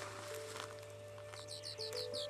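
A phainopepla imitates a red-breasted sapsucker: a quick run of harsh, repeated high calls over a faint steady hum.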